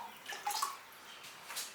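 Red iron oxide slip is poured over a pottery piece, a soft, close liquid splashing and trickling with a couple of brief louder gushes, faint overall and without speech.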